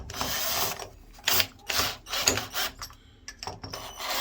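A screw being driven by hand to mount a bathroom shelf: short, close ratcheting and rubbing bursts in an irregular rhythm, fairly quiet, with no talk.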